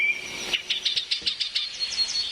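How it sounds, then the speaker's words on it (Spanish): Birds in the countryside around Nocaima and Vergara, Colombia, give quick, bright chirps in a steady rhythm, faint and a little distant, alone over a soft natural hiss. "es imposible no escuchar la sinfonía de las aves"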